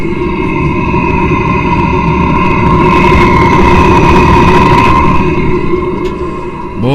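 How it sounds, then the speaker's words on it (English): A Webasto heating blower runs on a Ponsse forestry harvester, a loud steady mechanical hum with a constant whine close to the machine. The drone swells slightly midway and eases near the end, with no voices. "As you can hear, that blower's going right now."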